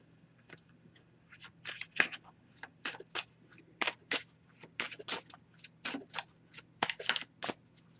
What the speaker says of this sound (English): I'm just going to give this a few shuffles, and then we'll cut the deck and pull a card.